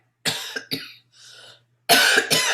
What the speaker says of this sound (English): Sorry about coughing.